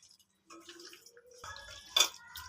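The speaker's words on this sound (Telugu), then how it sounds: "ఆనియన్ వేయించుకున్న ఆయిల్ ఇది ఇదే వేసేసుకుంటున్నాను" Onion-fried oil pours into a pot of chicken dum biryani, a brief liquid trickle and gurgle that ends in a sharper splash, heard close and alone.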